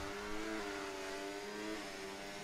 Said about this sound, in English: you can hear the engine revving a little bit more now